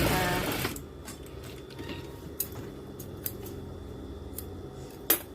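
A home sewing machine stitches a trouser waistband in a sustained mechanical run after an opening burst, with a few sharp clicks and snips scattered through a quiet room.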